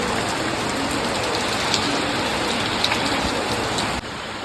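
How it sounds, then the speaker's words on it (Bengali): Heavy rain pours steadily on a rooftop where pigeons are flying, a dense, loud, even hiss of drops throughout with no voices. "পুরো বৃষ্টি পড়ছে, ছাদ পুরো ভিজে গেছে, ভালোই জোরে বৃষ্টি হচ্ছে।"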